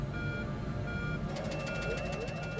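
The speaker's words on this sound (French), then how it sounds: "des alarmes se déclenchent" Repeating electronic cockpit warning alarms beep in a fast, regular pattern over a steady jet engine hum and faint voices, aboard an airliner shortly after the wing slats retract, with a stall warning to follow.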